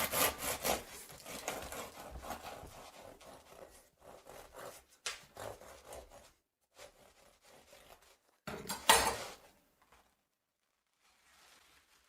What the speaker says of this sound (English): This type of bread is sliced like this.